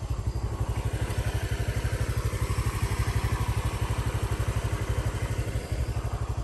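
A motorcycle engine idles close by with a fast, even, throbbing putter that holds steady throughout, with no talking.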